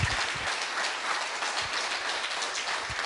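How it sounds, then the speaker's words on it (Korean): Conference audience applauding at the close of an academic symposium, a dense, steady wash of clapping at moderate level with no talk over it. "오늘 수고해 주신 분들께 여기 박수 한번 부탁드리겠습니다"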